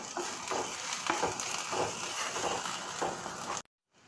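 Onions sautéing in a pan for Chettinad egg kurma give a steady, close sizzle with soft stirring scrapes, then stop abruptly into silence near the end.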